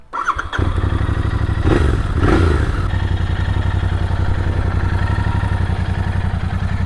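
Royal Enfield Guerrilla 450 single-cylinder motorcycle engine running close and loud, a steady low pulsing thump throughout with a brief rev swell in the middle, no talk.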